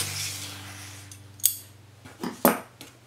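Scissors trim excess embroidery thread on burlap with two or three crisp metallic snips, close and distinct against a quiet background.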